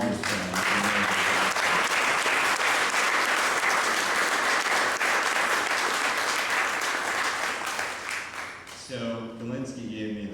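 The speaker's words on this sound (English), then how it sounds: "So, warm round of applause for everyone in the room and all of his family." Sustained loud audience applause fills a room at a memorial gathering for a judge, dense and continuous for nearly nine seconds before tapering as a voice begins speaking.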